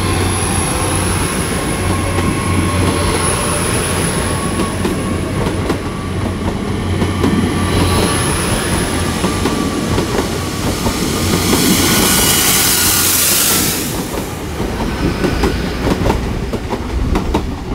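A Class 158 diesel train, unit 158 956 bound for Barnstaple, pulls out of Exeter St David's station with a loud, continuous engine rumble and wheel clatter, plus a brief rising hiss partway through.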